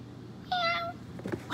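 A single drawn-out cat meow rises clearly out of a quiet room during a children's animal puppet show, followed by brief soft handling noises.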